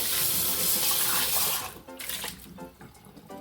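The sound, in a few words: tap water running while rinsing a container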